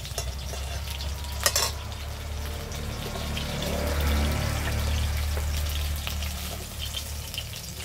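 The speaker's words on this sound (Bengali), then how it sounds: "এবার ভেন্ডিগুলো ভেজে নেব।" Okra frying in hot oil gives a constant, close bubbling sizzle that swells slightly midway, with one sharp clack early on, and no voice present.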